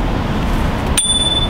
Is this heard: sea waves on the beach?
no